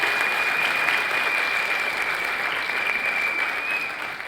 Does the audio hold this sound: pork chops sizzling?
no